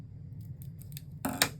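Scissors snip the edge off an adhesive foam dimensional for card making, a few light soft clicks early on, then two sharp close crunching cuts near the end, with no talking.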